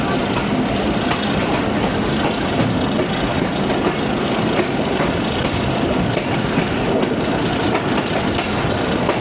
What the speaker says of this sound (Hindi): और लोकोमोटिव की भी दबी दबी आवाज़ पहुंच रही है इधर।